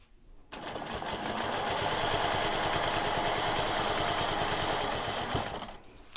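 A sewing machine stitches a quilt in a steady, fast mechanical whir with rapid needle chatter, starting after a brief silence and running loud and continuous for several seconds before stopping.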